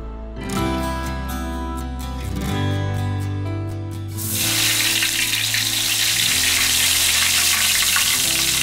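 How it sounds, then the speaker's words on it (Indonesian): Tempeh frying in a pan with hot oil, a dense, loud sizzle that swells suddenly midway as pieces hit the oil, steady crackling continuing alone over soft background music. "Lagi masak tempe goreng kesukaan ibu."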